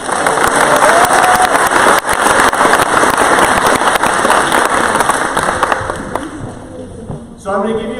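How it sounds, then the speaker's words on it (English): An audience at a student athlete awards and hall of fame induction claps for the student athletes: a loud, dense wash of applause that thins and fades toward the end, where a voice briefly speaks. "So round of applause for our student athletes."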